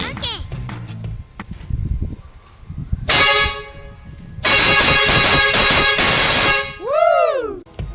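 Loud, blaring air horn with a solenoid: a short sustained honk, then a longer held blast, ending with a brief wavering tone, after some low rumbling and clatter.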